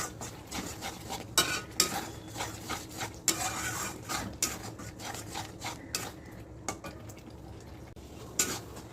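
Masala for a Sunday biryani is stirred and sautéed in a pot, with a steady run of scraping spoon strokes and soft clinks against the metal over a low background hiss, close and moderately loud.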